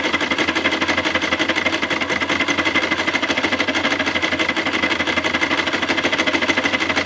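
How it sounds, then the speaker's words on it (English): A sewing machine stitching webbing onto a waxed canvas camp kitchen utensil roll, running in a fast, steady mechanical chatter of needle strokes without pause, close up and alone. "I'm going to sew that on there so that is fixed and that won't then come off."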